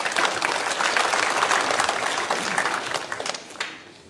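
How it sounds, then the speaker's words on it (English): Dense applause from a large audience at an interfaith forum in a performing arts venue, steady and full for several seconds before thinning out and fading near the end. "Please give yourselves a round of applause"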